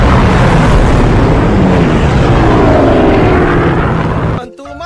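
A loud, roaring jet passes overhead with a sweeping rumble, then cuts off abruptly near the end.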